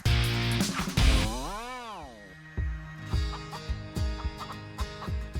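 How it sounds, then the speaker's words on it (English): Rescued battery-farm hens cluck close by in a busy burst of repeated calls, with one long rising-and-falling squawk standing out, then shorter clucks continuing steadily to the end. "Chickens!"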